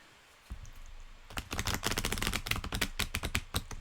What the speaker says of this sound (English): as I'm shuffling